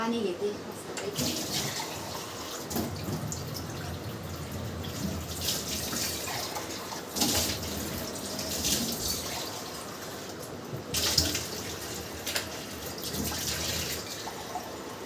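Water runs from a tap into a vessel in a home kitchen during meal preparation, a steady moderate splashing flow with brief louder gushes, heard alongside faint household movement and some background voice.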